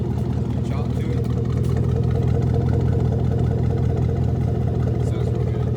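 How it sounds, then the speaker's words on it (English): A car with true dual exhaust idling at around 500 to 600 RPM, a steady low rumbling burble with a choppy pulse, fairly loud and close, while someone talks over it. "at normal idle at like 500-600 RPM, it's not that loud. It's got a good little chop to it"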